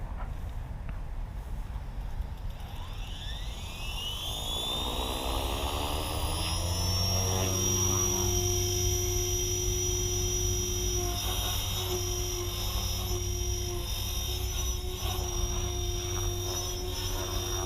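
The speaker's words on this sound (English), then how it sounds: "let's spool up and try again" An Align Trex 470LP RC helicopter, converted to LM, spools up from rest, its rising whine climbing into a steady, loud high-pitched rotor and motor drone that holds alone to the end.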